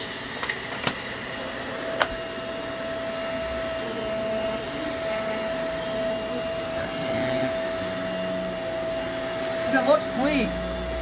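A Riccar Tandem Air vacuum cleaner runs with a steady, loud motor drone and a sustained whine throughout, with a few sharp knocks early on and brief rising tones near the end.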